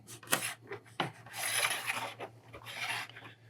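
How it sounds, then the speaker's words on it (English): A steering component of a MirageDrive 360 steering system is fed at an angle back into a compression tube, giving dry scraping and rasping slides in several short bursts, close up and fairly quiet, over a steady low hum. "I'm just going to go ahead and feed that back into the compression tube"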